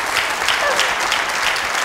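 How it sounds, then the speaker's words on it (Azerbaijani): A studio audience applauds guests on a television show, a steady, even wash of clapping from many hands that runs for about two seconds with no voices over it. "Biz onları ürəkdən alqışlayırıq."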